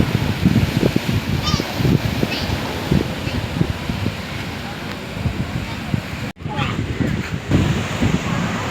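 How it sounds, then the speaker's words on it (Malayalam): Waves break on the shore at Kappad beach in Kozhikode, a steady rushing surf with wind buffeting close by, while people talk and call out nearby. "ഇവിടെ നല്ല തിരയാണ്"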